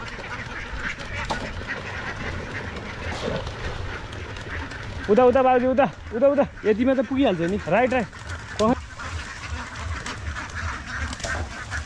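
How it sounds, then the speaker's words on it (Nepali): Ducks in a village pond in Nepal's Terai burst into a loud run of repeated nasal quacks close by, mid-clip, amid outdoor background noise while people talk before and after. "भाइले चाहिँ हाँस समाउनलाई अब गाह्रो परेर पोखरीमै छिरिसक्यो।"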